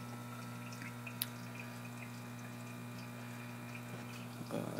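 Water spills in from a reef tank overflow into a DIY sump under a 90-gallon aquarium, a faint continuous trickle over a steady pump hum, with one small splash near the end.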